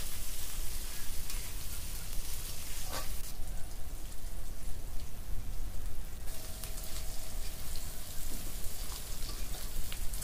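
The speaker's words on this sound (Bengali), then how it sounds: "রসুনটা আমি লাল লাল করে ভেজে নেব।" Crushed garlic and green chillies sizzle steadily in hot oil while cooking a mixed greens dish, a dense continuous crackle and spatter close up with brief louder bursts as ingredients are stirred.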